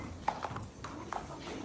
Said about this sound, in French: tous les chevaux sont prêts, ils sont en train un petit peu de les marcher